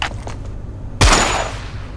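A single loud gunshot cracks out in a video game scene, a sharp blast with a booming low thump that rings off and decays over the following second, after quieter background game sounds.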